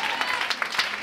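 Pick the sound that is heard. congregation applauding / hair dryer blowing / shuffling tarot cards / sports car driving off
congregation applauding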